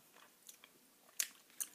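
Close, quiet gum chewing with faint squishes and two crisp louder snaps near the end, no voices present.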